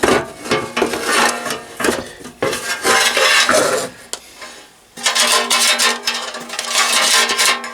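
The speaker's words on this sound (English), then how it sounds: "we simply slide it out of the chassis." A radio chassis slides out of its antique wooden case once the screws are removed, giving a close, continuous metallic scraping and rubbing with rattles, broken by a short pause before the grinding resumes.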